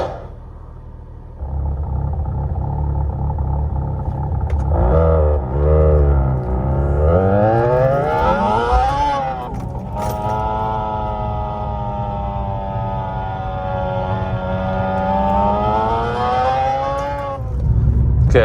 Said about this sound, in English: It puts sounds of different cars through your speakers